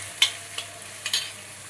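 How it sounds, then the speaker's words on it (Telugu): Ginger garlic paste fries in a pan for a moment, making a low steady sizzle with a few sharp spatula scrapes and taps. "అల్లం వెల్లుల్లి పేస్టు పచ్చివాసన పోయేంత వరకు వేపుకోవాలి."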